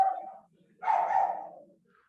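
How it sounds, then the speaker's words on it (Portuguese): A dog barks twice at close range, a short yelp followed by a longer, rougher bark, with quiet room tone between and after. "Até o cachorro gostou dessa."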